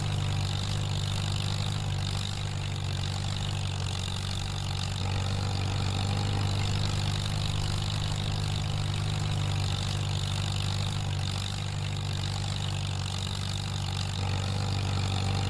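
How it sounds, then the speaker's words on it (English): An old tractor engine, freshly fitted with a new battery, idles steadily at close range, a smooth, even low rumble that carries on without a break and with no talking. "Boy, it's a good running old tractor now that I got her going."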